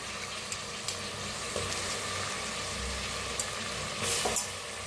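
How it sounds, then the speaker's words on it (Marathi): Peas, peanuts, moth beans and potato roasting in oil in a pan, giving a soft, steady sizzle with a few faint clinks and stirring scrapes, close and fairly quiet. "बघा छान असं भाजून घ्यायला लागल्या"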